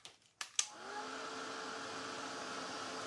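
A hair dryer dries paint on a wooden reindeer painting, starting after a few clicks and handling knocks and then running as a steady, even whir at low volume.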